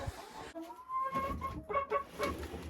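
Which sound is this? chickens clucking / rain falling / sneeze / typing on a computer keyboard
chickens clucking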